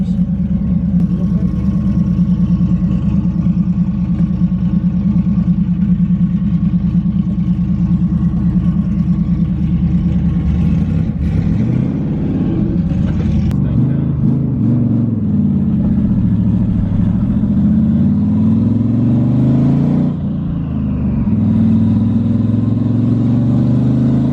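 A twin turbo Mustang drives on its first ride, the engine droning steadily loud and close with clattering, then revving up and easing off in repeated rising and falling surges.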